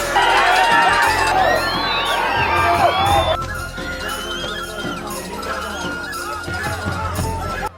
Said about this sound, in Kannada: ಕೇಕೆ ಶಿಳ್ಳೆ ಹಾಕಿ ಎತ್ತುಗಳನ್ನು ಹುರಿದುಂಬಿಸಲಾಗುತ್ತೆ